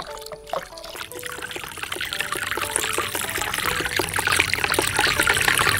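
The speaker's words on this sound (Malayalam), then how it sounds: "അപ്പോൾ തുരിശ് കലക്കിയ വെള്ളം ഞാൻ ഈ ഇതിലേക്ക് ഒഴിച്ചു കൊടുക്കുവാണ്" Copper sulphate solution trickles and pours steadily into lime water while the mixture is stirred, a continuous close liquid splashing that builds slightly louder, with faint clinks early on and no speech.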